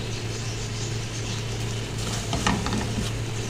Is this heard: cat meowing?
no